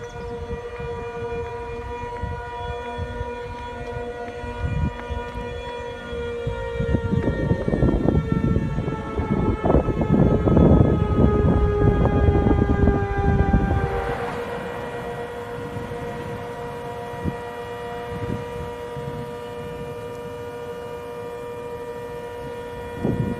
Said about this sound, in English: Here's a video or two when the Siren's chopper would only activate.